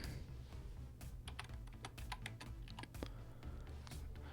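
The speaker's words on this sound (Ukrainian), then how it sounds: "Натискаємо Enter для підтвердження" A computer keyboard being typed on and its Enter key pressed, giving a quick run of close, crisp key clicks with a few sharper taps, fairly quiet and without talk.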